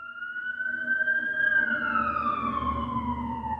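An ambulance siren wails steadily with a slowly falling pitch as it passes by, loud and continuous over a low background rumble of traffic.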